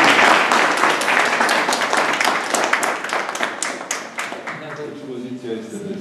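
Applause at an exhibition opening closes a speech, dense crowd clapping that starts loud and steady, then thins out and fades as voices begin to murmur underneath.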